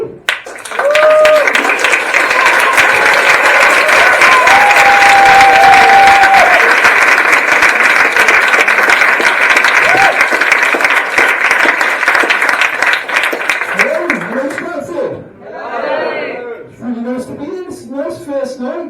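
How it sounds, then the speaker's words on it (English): An audience at a Stratford event claps and cheers loudly and steadily, with whistles and shouts rising above the clapping for about fifteen seconds. The applause then drops away and voices carry on talking. "let's start the clapping."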